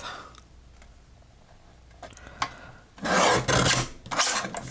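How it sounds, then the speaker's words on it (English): Craft paper being trimmed to a clean edge with a paper trimmer, with soft clicks and light handling first, then two loud, close rasping slides of the blade. "Trim that so I get a clean edge."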